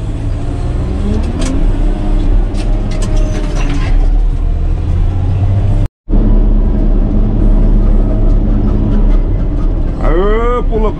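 A Caterpillar 120K motor grader runs loud and close in a long gear, its engine droning steadily with mechanical rattling, a brief dropout midway and a rising whine near the end as a voice speaks over it.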